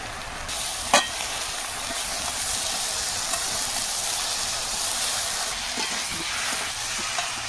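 Onions and beans frying and being stirred in a pan give a steady, close hiss of sizzling oil, broken by a few scraping clicks of a stirring utensil.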